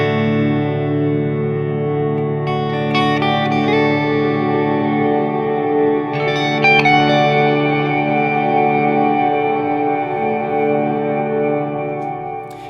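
A sustained, lush reverb wash from a Strymon Big Sky in Cloud mode with modulation switched off, dense harmonic tones ringing steadily with new notes blooming in around the middle, loud and continuous with no voices.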